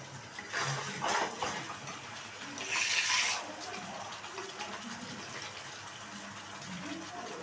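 Water is poured into a cooking pan holding a butter egg tikka masala paste, giving a few brief splashing gushes over a low, quiet background hiss.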